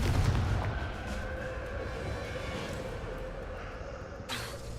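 Confringo and Bombarda spell blasts from Hogwarts Legacy combat, a heavy booming explosion at the start that settles into a sustained rumbling roar, followed by a sharp crack near the end.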